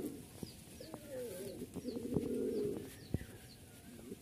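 A pair of green Giribaz pigeons coo nearby in a rising and falling rolling phrase, with a few faint chirps and clicks around it in a quiet room.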